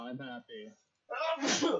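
A single loud, sharp sneeze bursts out close by, right after a brief spoken phrase and a short silence.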